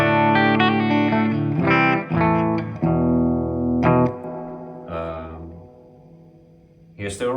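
Electric guitar through a modded Metal Zone distortion pedal into a cleanish Deluxe Reverb amp: chords and single notes ring out with a gritty, overdriven tone, each strum sustaining before the next; a brief bright squeal at the end.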